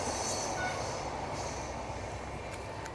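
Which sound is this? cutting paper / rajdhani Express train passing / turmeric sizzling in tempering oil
rajdhani Express train passing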